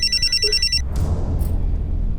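A telephone bell rings with a loud, steady electronic trill for just under a second, then stops, leaving low background rumble and faint movement.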